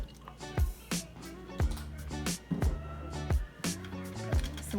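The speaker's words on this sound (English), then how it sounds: "Gonna add some Worcestershire." Worcestershire sauce is poured into a dish at home while cooking dinner, heard as a series of faint, close drips and splashes coming in irregular bursts.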